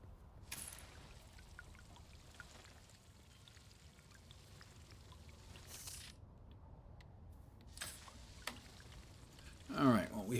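In Dune: Awakening, water pours into a literjon container as a soft, low trickling stream with occasional brief splashy bursts, quiet and steady throughout.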